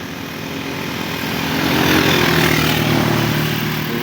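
A Honda Wave 125 motorcycle engine hums steadily while riding on a long provincial road trip, a close, loud droning buzz with wind rush that swells slightly in pitch and volume partway through.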